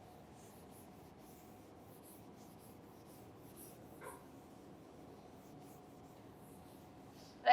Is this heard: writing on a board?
yes